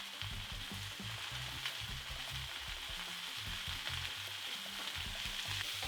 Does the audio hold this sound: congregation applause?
no